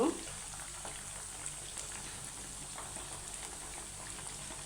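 Chicken tikka kebabs fry in a pan with a faint, steady bubbling sizzle that runs throughout, overlapped at times by a woman's quiet speech.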